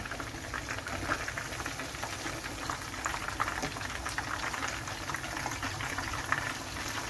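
Masala-coated chicken frying in a pan, a dense continuous bubbling sizzle of hot oil at steady loudness, no voices.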